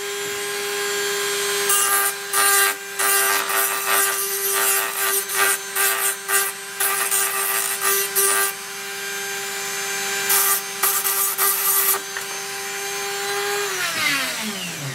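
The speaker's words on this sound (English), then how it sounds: "now we're going to sharpen it, and I'll do it the same way, but just give it a bit of an angle" A knife blade sharpened at an angle, with repeated gritty rasping strokes in an uneven rhythm over a steady hum, close and fairly loud with no talking.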